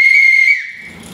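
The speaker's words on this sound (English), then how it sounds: "it also serves as a whistle if you're out there" An emergency whistle from a compact survival kit is blown close up, a single loud, piercing steady tone lasting about half a second before tailing off into quieter noise.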